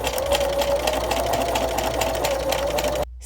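A sewing machine runs a steady straight stitch through a waterproof changing mat, a loud, close, continuous motor hum and rapid needle rhythm that stops abruptly near the end.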